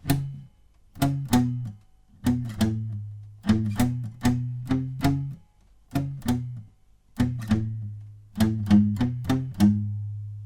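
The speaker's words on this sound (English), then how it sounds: "you're just palm muting it, which will sound like this." Electric guitar plays the palm-muted verse riff of a song, short choppy chugs and plucked notes in a repeating syncopated pattern, close and alone.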